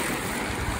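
Ocean waves wash up on a rocky shoreline during a rock hunt for Kona dolomite, a steady broadband rush of surf close by with no clear breaks and no voices over it.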